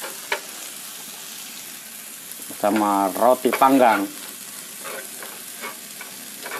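Live crickets fry with bread in a hot pan, giving a steady close sizzle and crackle throughout, while someone speaks briefly over it.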